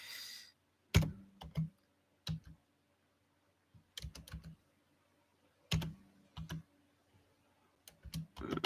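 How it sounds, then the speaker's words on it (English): Bursts of computer keyboard typing, clustered key clicks arriving in short runs separated by quiet pauses, close and fairly crisp with no talking. "I need to do some master typing."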